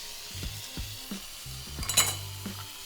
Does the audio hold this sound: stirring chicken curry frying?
yes